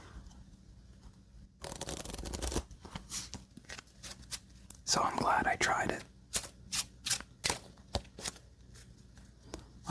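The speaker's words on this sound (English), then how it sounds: "Let's give it one more shuffle" A standard deck of playing cards is riffle-shuffled in two short, close bursts of crisp fluttering, followed by quieter taps and handling. A soft voice speaks between the shuffles.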